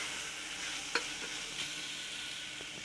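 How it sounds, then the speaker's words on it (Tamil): Fried yam pieces sautéed and stirred in oil, a quiet continuous sizzle with a couple of light spatula clicks. "ஏற்கனவே நம்ம எண்ணெயில் ஃப்ரை பண்ண கருணக்கிழங்கை இதில் சேர்த்துக்கலாம். இதையும் சேர்த்து நல்லா வதக்கிக்கலாம்."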